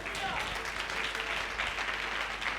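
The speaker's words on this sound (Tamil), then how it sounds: "கைத்தட்டுங்க பிரதர்" Church congregation at a communion service claps hands in a brief burst, moderately loud, with faint voices mixed in underneath.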